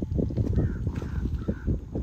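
Several crows caw repeatedly near a lakeside campsite, their harsh calls coming in quick, loud bursts close by, with no one speaking.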